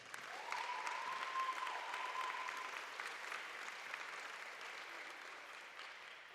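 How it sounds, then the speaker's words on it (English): Faint, distant applause from a crowd at a PHSC vs SPC college sports event, a steady even wash of clapping with a whistle-like tone briefly above it. "Please give a round of applause for tonight's guests."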